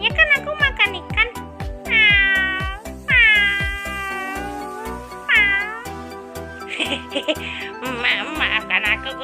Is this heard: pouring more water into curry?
no